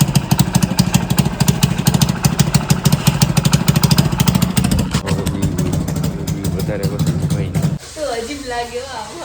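A motorcycle engine runs close by with a steady rapid putter, then cuts off abruptly near the end, leaving faint other sounds.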